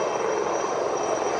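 Indian Advanced Light Helicopter, an indigenous maritime reconnaissance and coastal security aircraft, gives off a steady, loud broadband engine and rotor roar that holds evenly throughout without speech.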